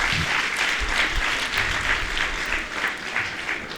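Audience clapping loudly and steadily for a children's play about a true Jain, staged by pupils of a Vitrag-Vigyan school in Jaipur, a dense continuous ovation with no talk over it.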